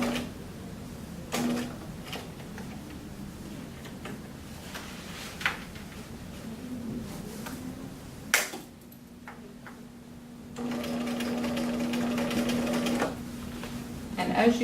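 Sewing machine top stitching a cuff, with a steady mechanical whir in several runs of varying length, the longest near the end. A person talks over much of it.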